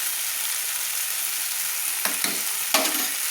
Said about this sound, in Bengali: ভালো করে আমি মশলাটা সুন্দর করে তেলের মধ্যে কষিয়ে নিচ্ছি।